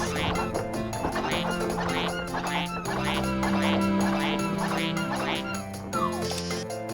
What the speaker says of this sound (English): I coincidentally ran out of water in that moment, which makes Flood make duck quacks